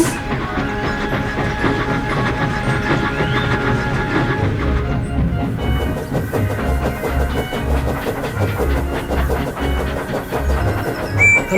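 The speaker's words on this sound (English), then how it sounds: "7 engines from the other railway were coming along the line." Several railway engines roll along the line together, a steady rumbling clatter of wheels and hissing steam with a rhythmic low chugging beat that grows more pronounced partway through.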